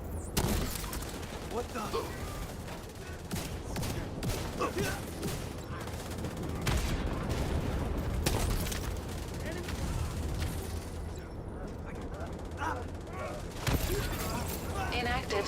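Shock-round gunfire in a video game firefight, dense bursts of shooting and blasts rattle continuously over a loud, busy battle soundscape, with a brief startled voice near the start.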